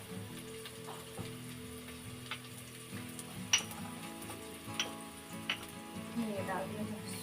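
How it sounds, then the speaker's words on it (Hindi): Garlic fries in a pan as tempering for kadhi, a faint continuous sizzle with scattered small pops and clinks of utensils, under a low steady hum. "अब मैं छोंक रही हूँ कढ़ी"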